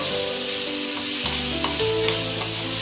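Beetroot kootu seasoning with curry leaves is sautéed in a pan, a continuous loud sizzle with stirring scrapes and a low steady hum underneath, with no voices.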